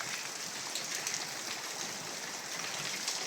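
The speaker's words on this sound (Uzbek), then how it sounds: "Tarnodan suvda oqishini ko'ryapsizlar qanchalik ko'p oqayotganini" Rainwater gushes from a gutter outdoors during a downpour, a steady, fairly quiet rushing splash without voices.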